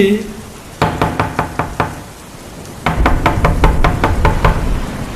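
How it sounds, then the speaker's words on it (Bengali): Knocking on a door in a radio horror drama: two sharp bursts of rapid wooden raps, a run of about six quick knocks, a pause, then a longer, louder flurry over a faint rainy background. "দরজায় ঠক ঠক করে"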